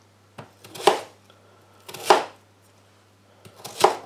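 Three separate knife strokes through potato on a cutting board, each a crisp close thud with a short scrape, spaced about a second or more apart over a low steady hum.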